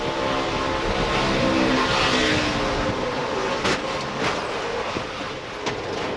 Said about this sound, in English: You heard him playing with the throttle even before he got sideways